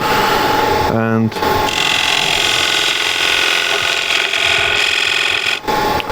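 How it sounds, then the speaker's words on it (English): Wood being turned on a lathe with a spindle gouge while shaping the foot of a wooden dish, a continuous loud whirring hum with rough scraping cuts, close up, with a brief voice at one point. "Going to use a spindle gouge to make this foot more sharp"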